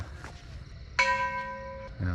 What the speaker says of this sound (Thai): ระฆังวัดดังแล้วเมง